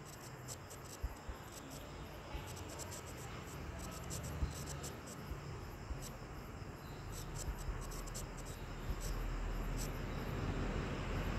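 Writing out an equation during a math lesson, with intermittent light scratching strokes and taps spread across a steady background hiss.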